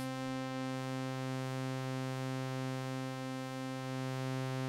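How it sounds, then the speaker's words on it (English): A sustained, buzzy square-wave tone from an Elektron Digitone II synthesizer holds one low pitch without a break, rich in harmonics and steady in loudness throughout. "I'm going to change the wave to a square wave."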